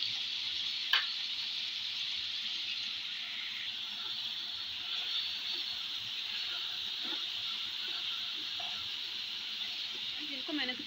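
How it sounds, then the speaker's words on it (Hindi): Mixed vegetables frying in a pan with garlic ginger paste while making crushed pickle, a steady close hiss and sizzle throughout with faint stirring clinks. "ये हमारी सब्जियाँ हो रही हैं अच्छी तरह फ्राई।"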